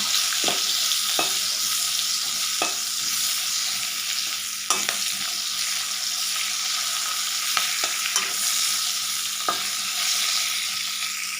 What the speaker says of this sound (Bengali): ভেজে নিচ্ছি, বড় বড় করে এরকম। একটা হালকা ভেজে নেব।